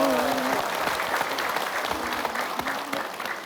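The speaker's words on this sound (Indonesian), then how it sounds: "Tepuk tangan dulu." A crowd claps steadily for a few seconds, dense and fairly loud, with a voice briefly audible underneath.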